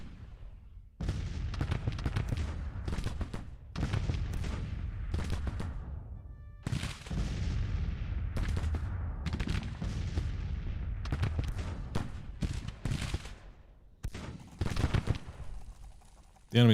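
Musket volleys and artillery fire in a Grand Tactician: The Civil War battle, coming as dense repeated bursts of gunfire with booming blasts, loud and continuous, sometimes broken by short pauses.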